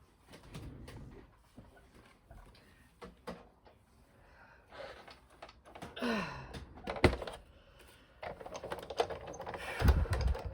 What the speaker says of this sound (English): we're going to run our die cutting machine again